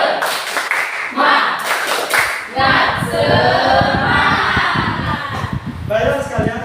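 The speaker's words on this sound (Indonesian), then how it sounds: "Tepuk semangat lagi sekali ya" A group doing spirited "tepuk semangat" clapping during an ice-breaking break in a mathematics teacher-training session in Mataram, with loud rhythmic clap bursts, shouting voices and crowd noise filling the room throughout.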